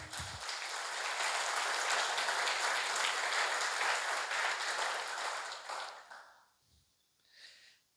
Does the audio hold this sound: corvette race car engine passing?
no